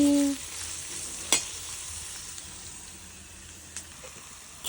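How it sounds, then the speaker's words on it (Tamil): A steady, soft sizzle of spices tempering in hot oil in a pan for fish puttu, with a faint clink or two of a utensil. "ஒரு கட்டியில் வதக்கிட்டு தாளிக்க விட்டால் ஓகே"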